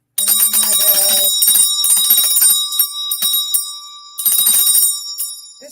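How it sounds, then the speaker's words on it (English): A bright metallic bell rings loudly and close, with sustained ringing tones struck in a couple of rapid bursts separated by a short pause. "Ooh, I do have a bell. You can ring my bell."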